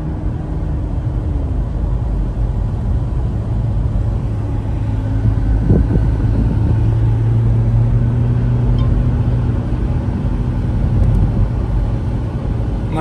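A car cruising in automatic mode, its engine hum and low road rumble steady and close throughout, with a brief shift-like change in tone near the middle and no talking.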